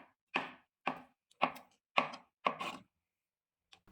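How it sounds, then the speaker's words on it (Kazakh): Knife chopping peeled boiled carrots into small cubes on a cutting board for an Olivier salad: five crisp, evenly spaced chops close up, then a pause and a faint final tap. "қайнатылған сәбізіміздің қабығын тазартып, видеодағыдай турап алып, оны да картоп секілді көбік тәріздес етіп кесіп шығамыз"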